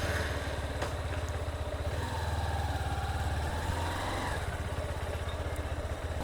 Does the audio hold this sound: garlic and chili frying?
no